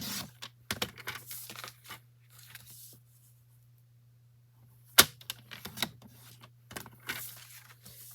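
Green card paper being cut on a paper trimmer at a crafting table, a few sharp close snaps and slicing strokes separated by quiet pauses.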